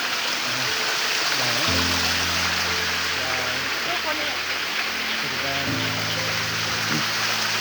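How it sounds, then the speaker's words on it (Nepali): Water from a village spring source runs through a pipe in rainy-season flow, a steady broadband rush lasting throughout at close range, with someone talking over it. "पानीको मुहान चाहिँ यहाँबाट छानिँदै उता फ्याँकिने गर्छ।"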